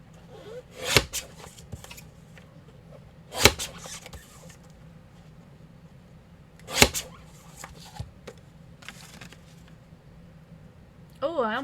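Scissors snip through a flower photography card in a few separate crisp cuts spaced several seconds apart, close and clear over a quiet room.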